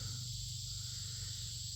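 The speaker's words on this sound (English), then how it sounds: "crickets are chirping" Crickets chirping on a summer evening at a farm, a steady high trilling chorus with low rural ambience beneath, continuous and fairly faint.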